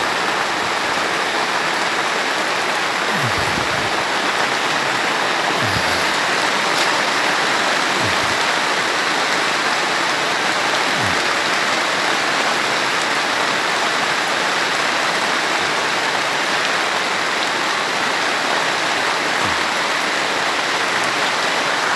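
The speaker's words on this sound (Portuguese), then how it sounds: "olha a chuva" Steady rain falls outdoors in a dense, constant hiss, close and loud throughout, with a few faint low thuds underneath and no talking.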